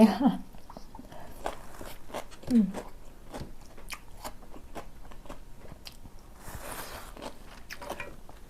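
Fried squid being chewed in a Thai eating show, with close crunchy bites and soft wet chewing that come in irregular bursts, one louder bite near the start, faint overall.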